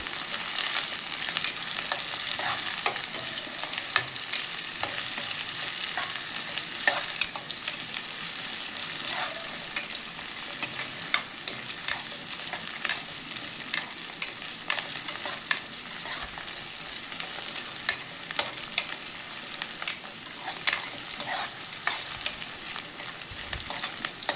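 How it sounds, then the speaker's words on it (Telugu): Onions frying in a pan with green chillies as an egg tomato curry is made, a continuous loud sizzle with frequent crackles and stirring clicks throughout, close up. "ఆనియన్స్ వేగేంత వరకు అయితే ఇలా కలుపుకోవాలి"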